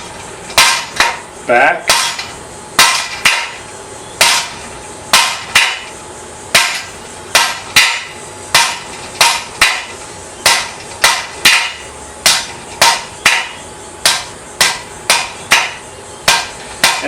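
A blacksmith hammers a medium-length taper on a metal bar, striking in a steady series of sharp, ringing blows with brief pauses between groups and a few words spoken.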